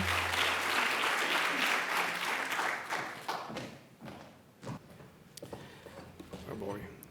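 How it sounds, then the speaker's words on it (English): A conference audience applauds warmly as a speaker is welcomed, loud at first and then fading into scattered claps and thumps as the applause dies away. "So please give a warm, welcoming round of applause to Sandeep Gupta from Deloitte."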